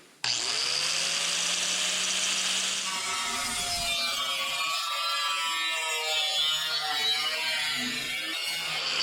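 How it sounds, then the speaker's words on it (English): A cutoff wheel spins up with a rising whine, then bites into metal during a Cobra Jet rebuild, giving a loud, steady grinding screech that runs close and unbroken to the end. "I'm gonna take my cutoff wheel"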